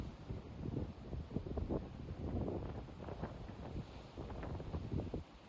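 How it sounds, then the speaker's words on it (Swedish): Wind blowing outdoors on a warm, gusty day by the sea, a steady low rush with uneven gusts buffeting the microphone throughout, fairly faint and with no talk over it. "Det är varmt och det är blåsigt."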